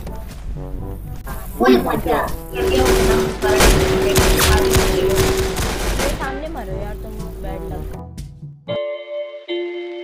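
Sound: gunfire in a video game

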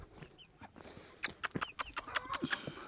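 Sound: chicks

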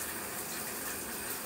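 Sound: shower running while washing hair

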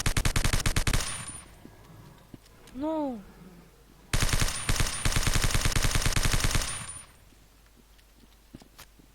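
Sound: submachine gun fire in video game

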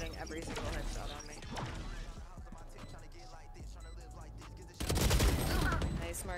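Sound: gunfire from Phoenix in the video game Valorant

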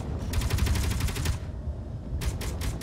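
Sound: gunfire exchanged with an enemy turret in the video game Space Engineers

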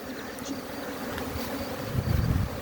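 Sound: honeybees buzzing loudly around hive nuclei, carrying pollen

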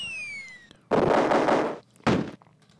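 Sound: grenade explosions in Cannon Fodder video game

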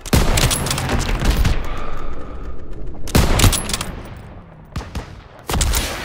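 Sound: gunfire in video game Call of Duty WW2

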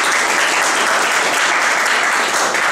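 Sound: audience applauding at a chess match

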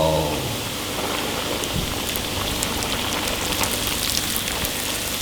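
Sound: banana octopus fritters frying in hot oil

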